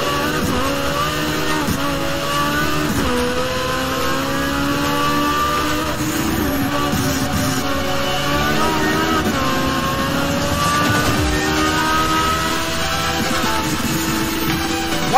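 Ferrari engine racing in Test Drive Unlimited, a loud sustained revving drone with shifting pitch as the car accelerates, continuous throughout with faint game audio beneath.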